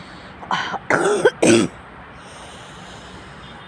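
Three harsh coughs come in quick succession, close and loud, followed by quiet.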